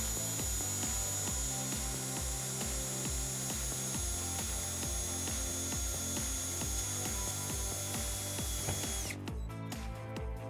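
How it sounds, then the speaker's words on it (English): A power driver sinks a screw beside the taillight box of a 2009 Hyundai Sonata while a trailer wiring harness is fitted, whirring steadily and close for about nine seconds before stopping abruptly. "we're just gonna put a screw right in next to it"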